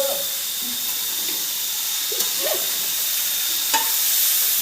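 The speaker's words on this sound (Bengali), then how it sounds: "ডাল ভাজছি কড়া কড়া করে" Dal being fried crisp in a pan while festival food is prepared in a home kitchen gives a steady, close sizzling hiss throughout, with a few soft stirring clinks and no talk.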